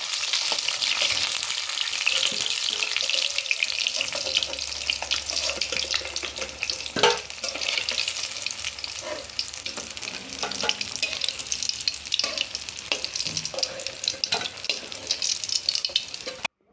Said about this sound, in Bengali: আমার মাছগুলো ভাজা হয়ে গেছে, তোমরা দেখতেই পাচ্ছ।